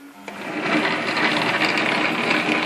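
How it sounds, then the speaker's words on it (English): A BV20 metal lathe runs forward at low speed with the lead screw feed engaged, giving a steady mechanical whir and gear whine that starts with a small click and then holds an even level. "lathe rotating in normal forward direction, engage the feed"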